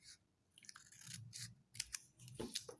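Scissors snipping paper while a crayon-decorated birthday card is made: several quiet, close crisp cuts in short irregular bursts with brief pauses between.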